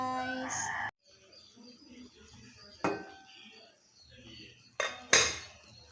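A lid set onto a soup pot of Filipino sopas, giving a few sharp metallic clanks of pot and lid amid quiet kitchen clatter, with a louder clatter near the end.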